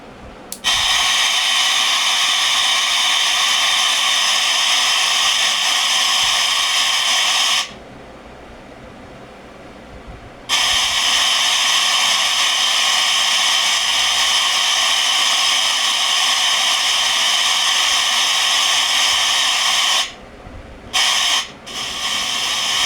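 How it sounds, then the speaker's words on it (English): A home-assembled FM radio kit with no station tuned gives off loud, steady static hiss, cutting out to near silence for a few seconds in the middle and briefly twice near the end. "The FM radio was switched on and you could hear the hissing noise when no station was"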